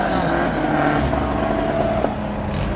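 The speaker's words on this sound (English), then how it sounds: "You'll probably hear some drag racing in the background" Drag racing cars roar in the background as a steady, loud engine drone near a 1978 Volkswagen Super Beetle Convertible, with a person talking over it.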